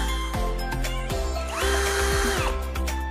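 A handheld electric drill with a built-in LED work light switched on and off several times in short bursts, its motor whirring up and spinning down, close and clear with no speech.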